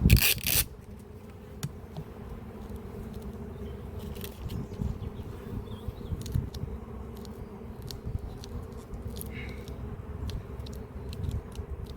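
Honeybees buzz steadily in an apiary hive, a dense low drone close by that swells and wavers throughout, with no talking.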